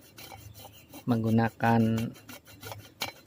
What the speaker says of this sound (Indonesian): Atau teman-teman mau menggunakan gergaji seperti ini.